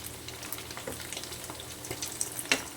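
Fasting vadas frying in hot oil as they are turned, a steady close crackling sizzle with small pops and occasional scrape of a spoon, no voices.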